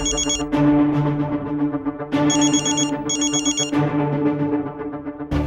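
A telephone ringtone repeats in bursts of bright melodic chirping on an unanswered call, with short gaps between the rings, loud and close with no voices.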